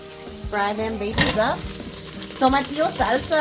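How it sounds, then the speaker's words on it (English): Tomatoes fry in a few spoonfuls of hot oil for a chicken tamale sauce, giving a steady sizzle with scraping stirs and a clink of pots, while people talk over the cooking. "We're gonna cook the tomatoes into the oil here. Fry them babies up."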